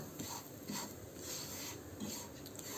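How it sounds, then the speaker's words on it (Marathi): Semolina roasts in a pan while a spoon stirs it, making a faint, steady scraping rasp with soft rhythmic strokes and no talking. "त्याच्यामध्ये आपण आता रवा घालून घेऊ रवा चांगला भाजून घ्या"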